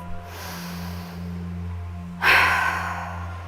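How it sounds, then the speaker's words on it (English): A single audible breath pushed out through the mouth during a home vinyasa yoga session, soft and close, rising suddenly after a quiet pause with a low steady hum underneath. "And exhale through the mouth."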